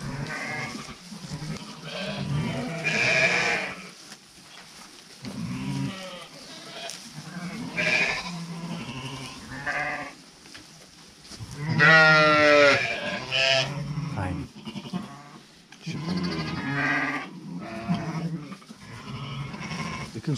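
Sheep and goats in a farm flock bleat repeatedly, loud, near calls overlapping at irregular intervals, with quieter pauses and ambient noise between them and no talk.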